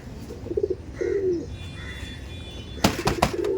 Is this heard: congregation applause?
no